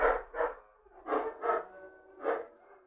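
Dogs barking and howling close by, with a small chihuahua among them, giving five short, strained, wavering cries in an uneven rhythm with brief quiet gaps between them and no talking.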